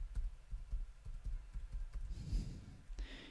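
Keys clatter on a computer keyboard in a quick, uneven burst of close, light clicks, followed by a short pause and a few scattered taps.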